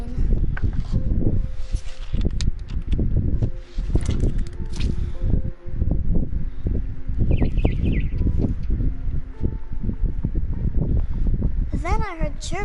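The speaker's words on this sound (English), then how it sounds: "Then I heard chirping outside my window. It was a barn swallow going back to her nest." Barn swallow chirping outside a window in the video game What Remains of Edith Finch, with bright short tweets and a rising warble near the end over rustling and soft footsteps while a voice narrates.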